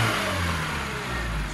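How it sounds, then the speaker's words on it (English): A car engine running after ignition tuning, with plugs and carburetor in good condition, holds a steady close mid-pitched drone with slight revving swells throughout. "So the engine's running."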